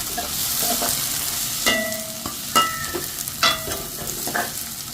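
Fennel seeds sautéing in a hot pan, a steady close sizzle broken by several sharp spoon scrapes and taps against the metal, with no voices.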